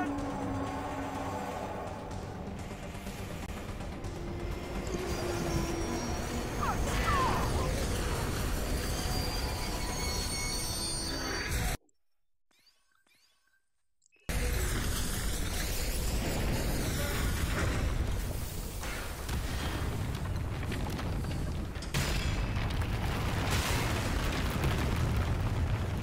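A train crashing in the video game Half-Life: Alyx, a long, loud roar of grinding metal and rumbling booms that breaks off into near silence for a couple of seconds and then returns at full force.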